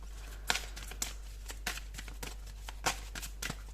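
Tarot cards are shuffled and drawn by hand, giving a quiet, close series of crisp riffling and slapping bursts at irregular intervals, with no voices.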